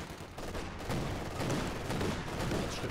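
MG42 machine-gun fire and other gunfire crackle through a World War II strategy game battle, dense, continuous bursts at moderate loudness with no pauses.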